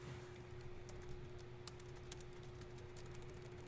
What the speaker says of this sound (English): I don't know why I'm having trouble typing 4.